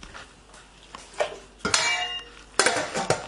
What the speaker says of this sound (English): we're going to just pop these in a big stock pot of water